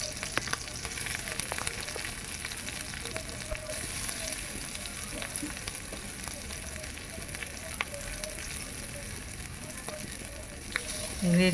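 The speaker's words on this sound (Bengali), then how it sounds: "ফোড়ন ভাজা হয়ে গেছে, দিয়ে দিলাম কুচনো কাঁচা লঙ্কা" Whole cumin seeds and chopped green chillies fry in hot white oil, a steady close sizzle with fine crackles running throughout, no one speaking.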